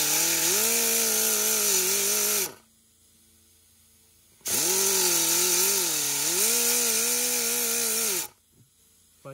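A power tool cuts a groove into the plastic rear hatch switch housing of a 2013 Kia Rio, whining loudly in two long steady bursts with a short silent pause between them.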